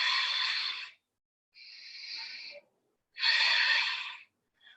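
Deep breaths drawn in and let out slowly during a yoga flow: a long exhale, a softer inhale, then another long, breathy exhale, close and steady, with no talking.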